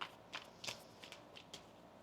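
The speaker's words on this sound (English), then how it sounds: "One more shuffle." A deck of tarot cards is shuffled by hand in a quiet room, with several crisp riffling bursts spaced across a couple of seconds, close and fairly soft.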